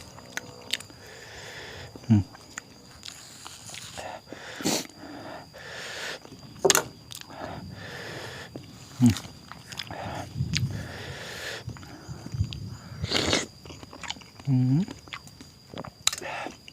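Mango being bitten and chewed at a small rice-field hut, with several crisp bites and wet chewing bursts up close, spread out between stretches of quiet and faint background sound.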